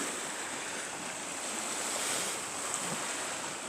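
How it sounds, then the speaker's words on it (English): Ocean waves washing in near a cabin on a calm morning, a steady broad surf hiss with gentle swells and some wind, continuous and fairly close, with no voices. "the waves got a little louder last night, and then they've calmed a little back down"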